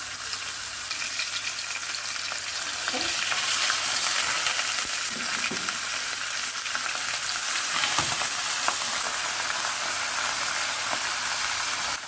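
Drained marinated chicken frying in hot oil in a pan, a steady loud hiss and crackle close up, with a few faint scrapes and knocks.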